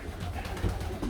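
Racing pigeons cooing in a loft, a soft low throaty burble rising in brief swells over steady background noise, close and continuous with no talking.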